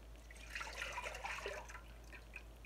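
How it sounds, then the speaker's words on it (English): Tomato juice from a KitchenAid fruit and vegetable strainer pours into a pot, a soft, steady liquid trickle and splash under a low constant hum, heard alone without talk. "And I'll pour the juice in there"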